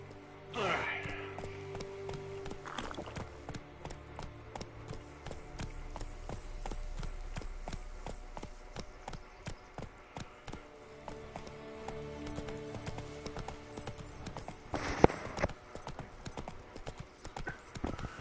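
Rhythmic hoofbeats from Roach, the horse in The Witcher 3 video game, galloping steadily across the clip with occasional louder thumps and a brief sharper hit near the end, under background game sounds and some talk.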